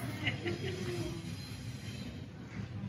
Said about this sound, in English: being interrupted by trains as usual downtown